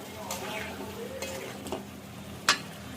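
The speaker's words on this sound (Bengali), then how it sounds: "এখন এই তো এটাকে কষিয়ে নিচ্ছি" Spice masala for a fish curry is stirred and fried in a pan, a quiet low sizzle with a few soft scrapes and one sharp clack of a utensil near the end.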